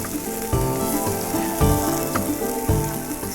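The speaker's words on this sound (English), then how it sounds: "Now we're just getting a nice little bit of colour on those. We're cooking them quite quickly." Onions fry fast in a hot pan for a Korean beef stir fry, giving a loud, continuous sizzle with a few heavier stirring hits spaced about a second apart, close and clear.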